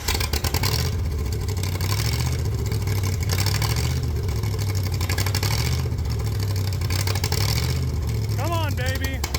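V8 engine-driven air compressor running rough and lean, a steady loud low engine drone with uneven surging throughout, and a voice briefly heard near the end.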